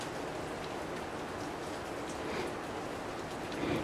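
Steady rain pours down outside a rain-soaked cave used as a field office for watching Black vultures, a dense, even hiss of drops on surfaces throughout, with no voices.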